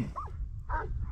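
A huntaway sheepdog gives a couple of short, distant barks while mustering ewes in hilly scrub, faint over low outdoor rumble and wind.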